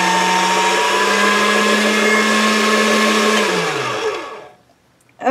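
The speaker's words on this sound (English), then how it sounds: "You can tell by how long the pasta machine's going as to how long this is getting." A motorized pasta machine rolling polymer clay gives a steady, loud electric whir with a constant hum, then winds down and stops, followed by a short mechanical click or knock.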